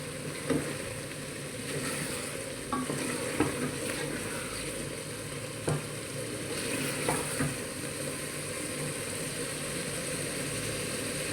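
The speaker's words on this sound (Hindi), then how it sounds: "आपने अच्छे तरीके से मटर की भुनाई कर लेंगे ताकि कच्चापन इसका ख़त्म हो जाए" Peas and meat fry in a pan for a mutton-and-pea curry, with a steady, close sizzle and occasional sharp clicks and scrapes from stirring throughout, and no voices.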